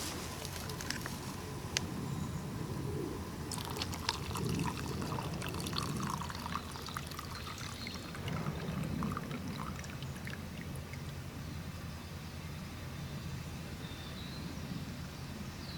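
Boiled dew water is poured into a clean water can, giving a continuous splashing, trickling stream at moderate level with a few clinks of the container.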